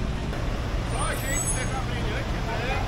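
Steady roar of street traffic in New York City, buses and cars rumbling past with a continuous loud wash of engine and road noise, and a voice talking over it.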